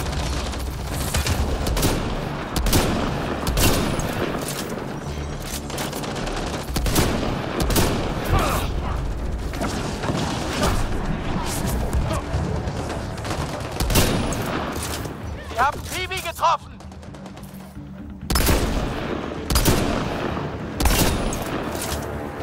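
Rapid bursts of gunfire in Mass Effect Andromeda crackle almost continuously, with heavy booms and dense shots layered over a loud, busy game soundscape.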